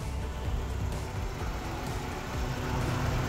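Engine of a 1983 Subaru MY Touring Wagon idling with a worn muffler, a steady low rumble that holds evenly throughout, fairly close, with no talking over it.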